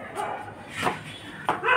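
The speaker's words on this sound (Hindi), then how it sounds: "बाहर गली में कुत्ते भौंक रहे हैं" Dogs bark in a street in Delhi at night, giving two or three short barks and yips at middle distance over a low background hum.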